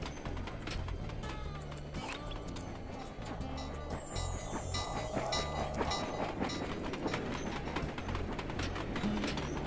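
A train in the video game Sly 2: Band of Thieves rumbles steadily with rhythmic clacking of wheels on rails, growing louder and brighter with a hissing wash midway, and no talking.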